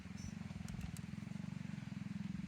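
A steady low engine drone of passing motorcycles runs throughout, faint and somewhat distant, at a forest campsite, with a couple of light clicks on top.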